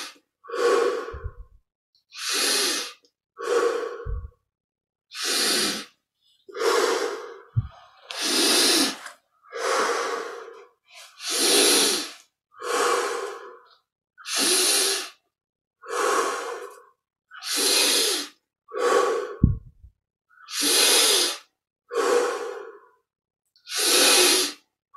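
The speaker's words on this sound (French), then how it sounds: "25 respirations profondes." Deep, slow breathing during a yoga meditation, about twenty-five steady inhale and exhale cycles, each a long airy breath separated by brief pauses, close and clear with no talking.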